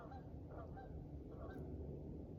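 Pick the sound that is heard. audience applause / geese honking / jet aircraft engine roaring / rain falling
geese honking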